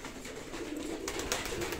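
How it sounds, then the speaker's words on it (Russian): Armenian pigeons coo softly and steadily in a low, throaty murmur, fairly faint and continuous with no talking. "Суперские, короче, голуби"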